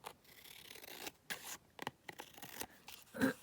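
Scissors cut paper for a collage journal card in short, close snips and crisp slicing strokes with brief pauses between them, fairly quiet, with no talking.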